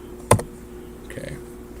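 Typing on a computer keyboard: one sharp loud key click followed by a brief faint cluster of softer keystrokes against a quiet room hum.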